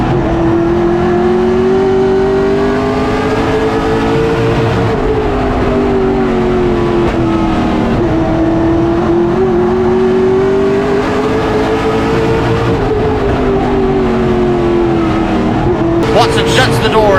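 Race cars roar around a short oval track at Hickory during a playoff race, engine pitch rising and falling as they sweep through turns, with an announcer talking over the continuous noise.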